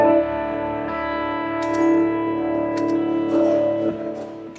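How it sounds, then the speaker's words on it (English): Sustained electric guitar chords ring out with a bright, fairly clean tone, a few pick scrapes and strums standing out, no talking. "So this is the clean sound."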